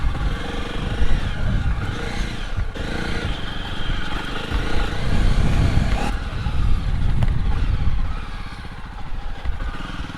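A Jawa 42 motorcycle rides off-road in Ladakh, its engine droning loud and close with rumbling, clattering over rough ground and steady throttle throughout.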